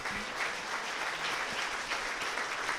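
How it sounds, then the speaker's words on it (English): Audience applause at the Bay Area Radio Hall of Fame 2025 ceremony honours the new class of inductees. The clapping is thick and continuous, a sustained round from a full room with no speech over it. "please give another round of applause for our Barhoff class of 2025"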